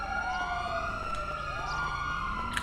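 A police siren in GTA V wails continuously in the background, its pitch rising and falling in sweeping loops over a steady hum.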